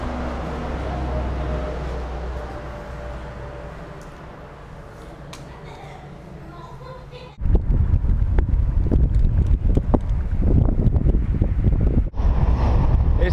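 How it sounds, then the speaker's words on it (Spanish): Strong northward wind in the Sechura desert of Peru roars and buffets the microphone, starting as a moderate rush and then turning into loud, continuous low rumbling gusts. "Está soplando el viento súper fuerte en dirección norte"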